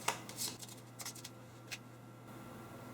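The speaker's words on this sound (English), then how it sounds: "take all 3 types of recipe card and shuffle them together to form" A deck of recipe cards for a board game gets shuffled together, giving a few quick, faint riffling bursts early on before fading into near silence.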